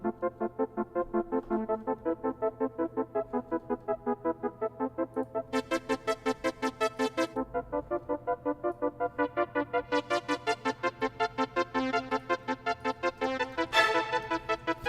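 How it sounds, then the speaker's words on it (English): A Zebra synth plays a crunchy, buzzy mid-range line in the viola register, with steady rhythmic pulsing notes and brighter accented swells, heard alone and close with no talking. "So mid synth sounds like this."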